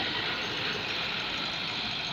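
Two tractors, an MF 385 and a YTO EMF 604, race side by side in fourth gear at 1500 RPM, giving a steady, loud mechanical engine drone with gear whine and no talk.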